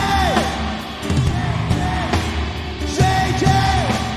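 A crowd yells and whoops in loud, rising calls that come in repeated waves, with voices overlapping close by.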